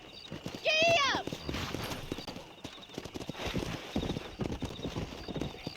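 Horse hooves clip-clop at a trot while riding in the video game Red Dead Redemption 2, preceded by a sharp whinny, with the hoofbeats continuing steadily and close under game ambience.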